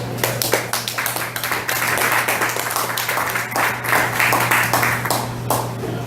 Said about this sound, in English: Please give a warm round of applause for Carrots.